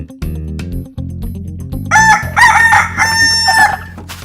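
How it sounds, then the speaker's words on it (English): On a poultry farm keeping broiler and layer chickens, low clucking and chatter from the hens comes first, then a rooster lets out a loud, close, drawn-out crow. "First up, Christina's chickens."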